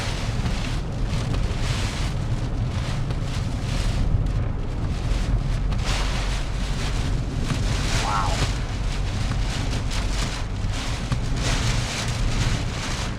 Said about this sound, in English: very strong wind